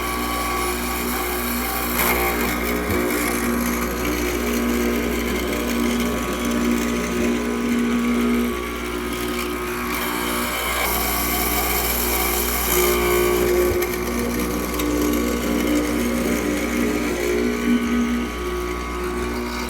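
A workshop machine, set up on an improved bandsaw, runs steadily while cutting a wooden back rail, giving a continuous loud whine and hum with shifting tones as the cut progresses, with no talking.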